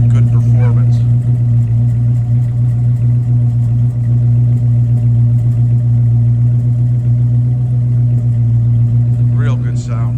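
A 1970 Mercury Cougar engine runs steadily at a loud, continuous idle with a deep low hum throughout, while faint chirpy sounds appear briefly near the start and end.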